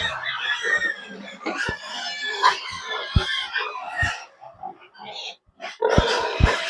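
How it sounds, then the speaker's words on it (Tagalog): Piglets squeal and grunt loudly nearby in shrill bursts at feeding time, broken by sharp knocks and thumps. "Ang ingay ng mga baboy."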